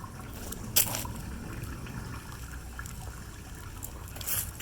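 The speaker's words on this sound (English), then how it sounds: "water is flowing really good" Water trickles steadily through a septic system during a tank inspection, a low continuous flow with a couple of brief louder splashes, close by and without talk.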